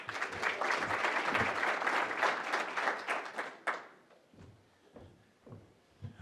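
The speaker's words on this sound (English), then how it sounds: "Round of applause, yeah." A full house at a chamber of commerce State of the City morning event claps steadily for nearly four seconds, then the applause trails off into scattered claps and room rustle.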